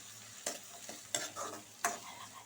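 Chopped onions fry in oil in a pan with a soft steady sizzle, broken by three sharp scraping stirs of a spoon, quiet and close with no talking.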